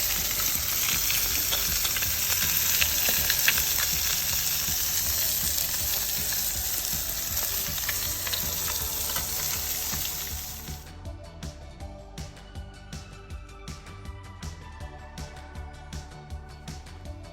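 Salted and peppered perch fillets fry in a pan with a loud, dense crackling sizzle that dies down partway through to sparse spitting pops, heard up close with no talk.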